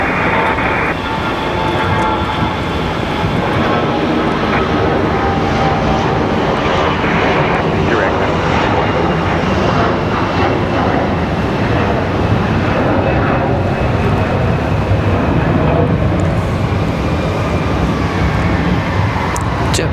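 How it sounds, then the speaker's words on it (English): An Airbus A321 jet at Raleigh-Durham International Airport sends out a loud, steady, broadband engine roar that holds continuously for the whole stretch, with wind adding to the noise. "Here's our A321 from Charlotte."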